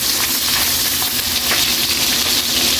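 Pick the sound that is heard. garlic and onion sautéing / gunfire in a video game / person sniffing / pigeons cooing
garlic and onion sautéing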